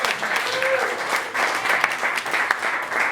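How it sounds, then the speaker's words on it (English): Comedy club audience applauds the staff and owner of the Dragon, a steady, fairly loud burst of clapping that fills the room, with brief speech mixed in over it. "one more big round of applause for your staff here and the owner of the Dragon upstairs"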